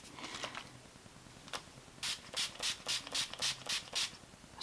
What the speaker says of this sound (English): Use a NYX Matte Finish Setting Spray.